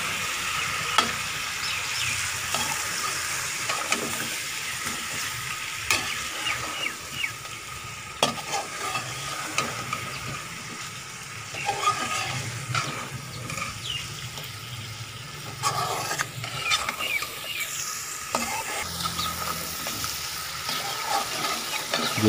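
Chicken biryani masala with spices being stirred and fried in a pot, a steady close sizzle with repeated scraping and stirring strokes throughout, no talking.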